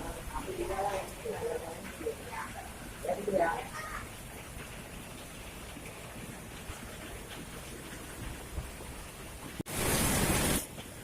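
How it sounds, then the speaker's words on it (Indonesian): Rain falls in a steady, soft hiss while people talk quietly over it, with a sudden loud rush of water splashing briefly near the end. "Lama hujan gini ya Bu."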